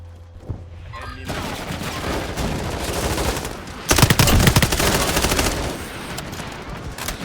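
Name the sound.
heavy gunfire in the Call of Duty MW4 video game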